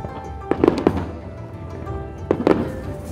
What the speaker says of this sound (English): the fireworks are starting to get good